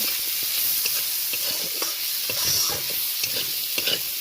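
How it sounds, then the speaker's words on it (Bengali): Chopped onions sizzle and crackle in a hot pan with fish curry cooking, while a spoon stirs them in repeated scraping strokes; close and steady, no talking. "পেঁয়াজটা 2-3 বার নেড়ে নেব"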